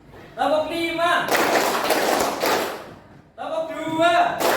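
Pupils in a classroom clap as one group during a concentration clapping game before a lesson. The ragged burst of many hands lasts almost two seconds, with an adult speaking on either side.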